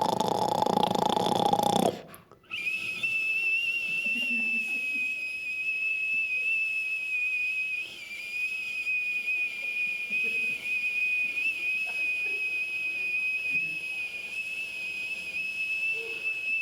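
A comedian on stage imitates a teapot or kettle snore, holding a long, thin, high whistling tone that wavers slightly for many seconds after a brief breathy onset.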